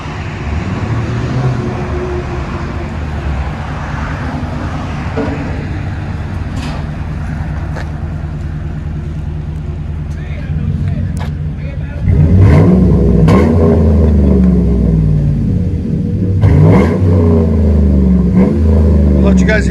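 A Chevy Silverado with a Flowmaster 40 Series dual exhaust idles with a deep, steady rumble, then revs harder partway through with louder throaty surges, close by and with some voices in the background.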